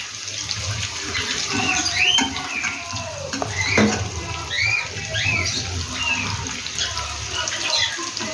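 Running water from a tap flows steadily as hands are washed in a kitchen, with chirping birds in the background and a faint voice now and then.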